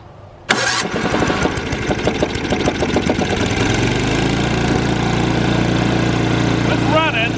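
A small electric-start engine that dies when taken off choke cranks and catches abruptly, then runs on choke with a loud, steady, close-up chugging idle that gradually smooths out. A voice is heard briefly near the end.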